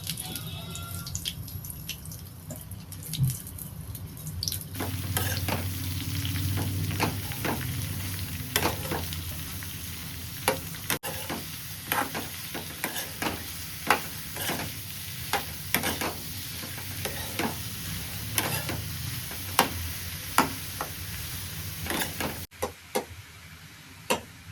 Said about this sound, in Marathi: कांदा असं आपल्याला भाजून घ्यायचं आहे, प्रॉपर त्याला ब्राऊन करून घ्यायचं एकदम.